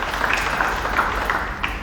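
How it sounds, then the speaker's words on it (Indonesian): A church congregation applauds during an Indonesian worship service, a steady, dense wash of clapping from many hands, moderately loud and sustained throughout with no clear speech. "Berikan tepuk tangan dulu buat Tuhan."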